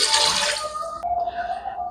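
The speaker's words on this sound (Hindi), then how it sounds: "तो यहाँ पर मैं इसमें 2 गिलास पानी ऐड करूँगी।" Water pours into a pot of Afghan mutton gravy with a loud, bright splash for about half a second, then settles into a thinner trickling stream.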